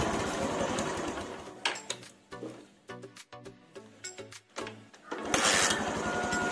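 A Honda Megapro motorcycle engine, the newer model, idles steadily up close and revs in short throttle blips, then settles back to a busy running drone.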